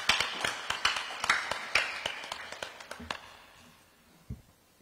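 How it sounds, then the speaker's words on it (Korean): An audience at a public briefing for news agency chief candidates claps with sharp, uneven strikes that are close and fairly loud at first, then thin out and fade over about four seconds. "여러분 박수 부탁드립니다"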